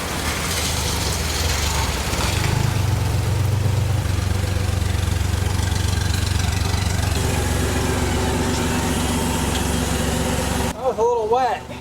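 A Honda Goldwing motorcycle engine, in rough repair, runs in the wet after rain with a steady, loud droning idle and a slight rise in pitch midway, cutting off abruptly near the end.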